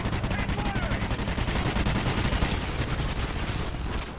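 Sustained rapid gunfire in Extinction mode of a Call of Duty-style shooter, dense automatic bursts rattling loud and continuous for several seconds before easing slightly at the end.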